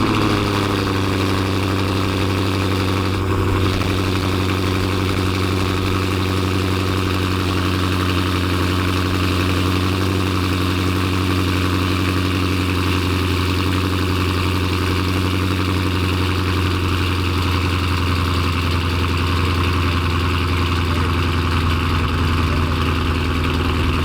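Dodge Challenger ScatPack V8 fitted with long tube headers, idling loud and close with a deep, steady rumble that lasts throughout, one brief knock early on.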